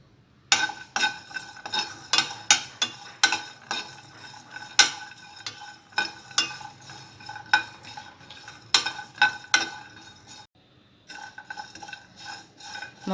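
Coriander seeds, raw onion pieces and sesame seeds roast in a pan while a spatula stirs them, giving a steady run of scraping strokes and sharp metallic clinks against the pan, close and fairly loud, with no talking.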